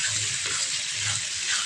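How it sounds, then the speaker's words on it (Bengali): Ginger and garlic spice paste fries in a pan, a steady close hissing sizzle with faint bubbling and stirring. "দিয়ে ভালো করে মশলাটা একটু ফ্রাই করে নেব"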